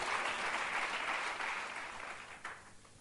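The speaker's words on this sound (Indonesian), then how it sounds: "Mari tepuk tangannya yang lebih meriah." A congregation at a fasting prayer service breaks into lively applause, a dense, even patter that holds strong for about two seconds before tapering off, with a brief bump near the end.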